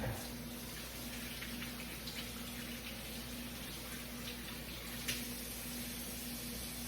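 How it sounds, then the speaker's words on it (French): Tap water runs steadily into a kitchen sink for hand washing, a continuous even rush with a faint hum beneath, close and moderate in level, with no talking. "je vais juste aller me laver les mains"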